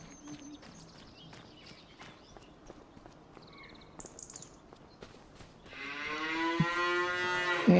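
Cattle in the Farming Simulator 25 video game low and moo, with hoof clip-clops and faint stepping sounds, building to a louder, drawn-out moo near the end.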